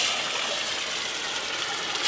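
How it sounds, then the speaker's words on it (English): Tap water running through scuba regulators to rinse them, an even, unbroken hiss of flowing water, close and moderately loud, with no talking. "like to just run water through both"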